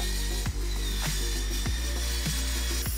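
A Milwaukee M18 FMCS cordless metal circular saw cuts lengthwise through 3 mm steel sheet along a straight guide. The motor whines loudly and steadily throughout, with a few brief dips in load.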